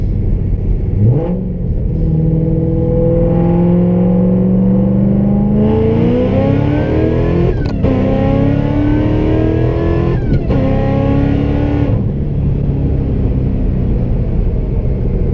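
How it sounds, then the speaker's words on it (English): A 700-horsepower Ford Mustang GT500 on drag tires roars through a second-gear pull, the engine note climbing steadily with brief shift-like breaks, loud and close inside the car with no talk. "Alright, so we're just going to do a nice easy second gear pull."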